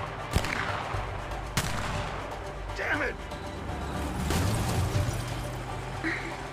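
A few sharp gunshots crack out over engine rumble and excited talking in the game A Way Out, scattered rather than in a rapid burst.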